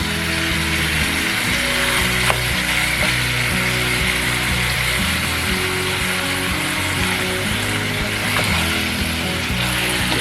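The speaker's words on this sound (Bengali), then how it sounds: "একটু ভেজে নিব।" Beef fries for a Kashmiri-style rogan josh, giving off a loud, constant sizzle with faint stirring and scraping sounds and no talk.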